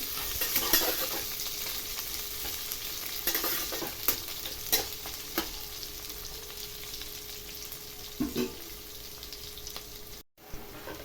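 Onions fry in a pan over whole spices with a constant close sizzle, broken by scrapes and clinks of a spoon stirring at irregular moments.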